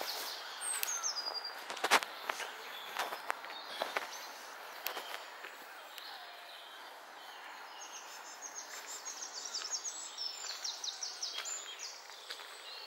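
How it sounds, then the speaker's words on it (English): Birds sing and call outdoors on a nature walk among woods and geese, faint scattered chirps and song phrases over soft rustling and footsteps. "I try to listen to all the different sounds all the birds are making"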